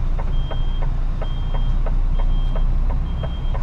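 A car transporter truck reverses, sounding a steady series of sharp, evenly spaced electronic beeps over a constant low engine rumble.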